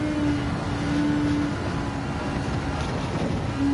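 Engine of a race car driven at night in Gran Turismo 7, with rain drying on the track: a steady, loud droning hum with a sustained tonal whine, continuous and up close for the whole stretch without talk.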